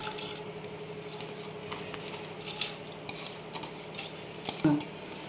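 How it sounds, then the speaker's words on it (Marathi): Moong dal tipped into a cooking pot holding a glass of water for garlic-tempered dal palak, giving faint close clinks and a soft wet splash near the end over quiet kitchen background. "आता याच्यामध्ये मी डाळ टाकून घेते."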